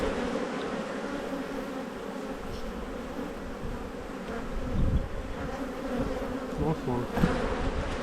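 Honeybees buzz steadily around an open hive during a frame inspection, a dense continuous hum close to the listener, with a person briefly speaking over it.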